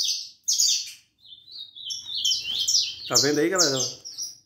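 A caged saffron finch (canário-da-terra) sings close by, stimulated by another canary: bright chirps and tweets at the start, then a short warbling trill as the phrase builds. Someone speaks briefly over the song.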